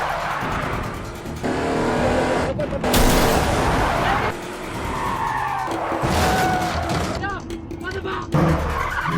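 Tyres skid and a car engine roars through a film car chase, with loud bursts of squealing and impacts and a voice speaking over parts of it.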